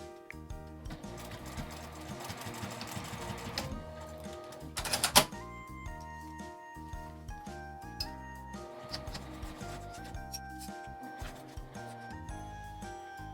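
A sewing machine stitches a zipper onto a slim coin purse made from small fabric scraps, hand-fed through the stiff zipper section. Close, steady runs of rapid mechanical stitching continue throughout, with one louder clattering burst midway and no voices.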